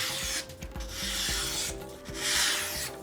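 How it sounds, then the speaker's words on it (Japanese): A knife freshly sharpened on a whetstone makes a test cut, close and fairly quiet, with rasping, rubbing strokes in a few uneven passes. "それでは続いて試し切りしていきます"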